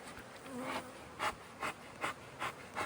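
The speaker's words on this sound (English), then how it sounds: "Calm down, bees." Honey bees buzz steadily in a soft drone, with several louder swells as individual bees pass close, about five brief peaks over a few seconds.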